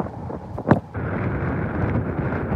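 Wind blowing hard across the microphone outdoors, a steady rushing roar with one sharp gust buffet near the start, close and continuous, with no voices.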